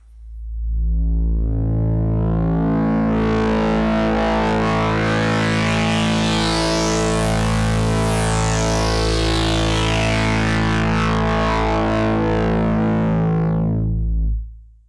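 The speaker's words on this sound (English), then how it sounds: "this synth's definitely capable of getting some really grungy tones with the dedicated overdrive knob over here" A loud, sustained Sequential Take 5 synthesizer tone with heavy overdrive distortion, thick and buzzy, holding steady for about fourteen seconds before cutting off. No voices.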